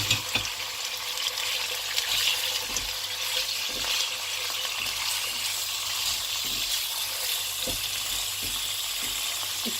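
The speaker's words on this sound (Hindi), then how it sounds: "ये देखें क्यूमिन सीड जो है वो फ्राई होना शुरू हो गए हैं।" Cumin seeds frying in hot oil in a pot for mutton handi, a steady close sizzle with occasional soft pops and stirring clicks, no talking.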